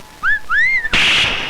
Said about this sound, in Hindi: कितनी सुरीली सीटी थी